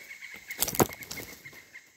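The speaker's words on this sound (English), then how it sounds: "What kind of bird was that?" A bird near a trap set at a camp, with a short flurry of flapping wings and a couple of quick calls, moderately close, against a faint steady background hum.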